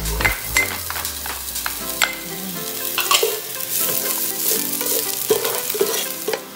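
Minced onions sizzle and fry in a pan on top of ginger and garlic, with a loud steady crackle and repeated scraping and stirring clatters throughout.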